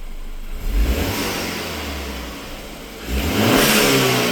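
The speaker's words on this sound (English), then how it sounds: "Give it a few revs real quick." A stock-exhaust BMW revs twice, close by, with loud engine surges around one second and again near three and a half seconds over a steady idle.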